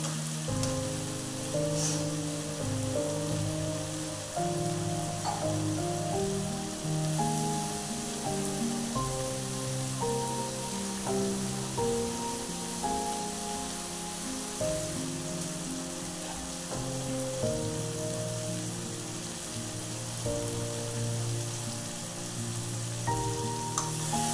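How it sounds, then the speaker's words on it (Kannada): Vegetables fry in oil in a pan for vegetable upma, giving a soft, continuous sizzle that stays faint throughout. A steady tonal hum plays underneath, and no one speaks. "ಈ ಥರ ಕ್ಲೀನಾಗಿ ಫ್ರೈ ಮಾಡ್ಕೊತಾ ಇದ್ದೆ"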